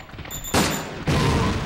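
Gunfire in the video game Resident Evil Dead Aim on PS2: two loud, booming shotgun-like blasts about half a second apart, each with a dense crackling tail filling the clip.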